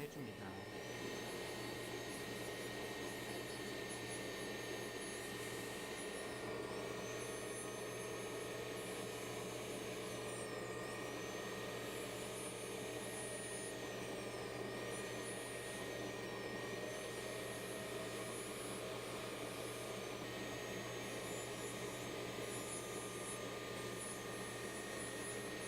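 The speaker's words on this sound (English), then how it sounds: "the feather-like wheel should be used to polish the grooves" A dental lab handpiece drives a feather-like polishing wheel into the grooves of a sintered zirconia crown, producing a steady, high motor whine that dips briefly in pitch as the wheel presses in, continuous throughout.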